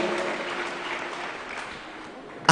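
A church congregation claps along during a live Holy Communion service, a steady wash of applause that rises suddenly louder at the end.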